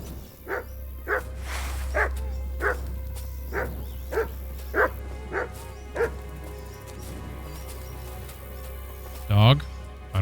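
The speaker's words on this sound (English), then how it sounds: "Oh, here's a trail. Ooh, dog." A dog in Kingdom Come: Deliverance 2 barks about ten times in a steady, evenly spaced series, moderately loud over a constant low game hum, with a sharper, higher yelp near the end.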